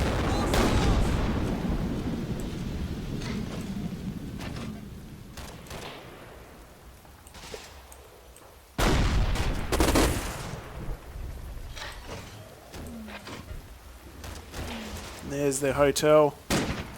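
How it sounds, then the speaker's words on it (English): Artillery barrage in the World War II game Combat Mission Battle for Normandy: loud booming impacts and crackling explosions, a heavy blast cluster at the start and another midway, with rumbling decay and a person talking over it. "Roger, fire for effect."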